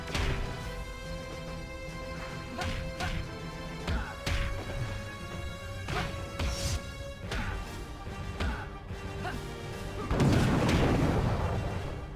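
Cannon fire and booming impacts from the 2002 PlayStation 2 fighting game X-Men: Next Dimension, repeated sharp hits over a steady music bed, with a heavier explosive burst swelling near the end.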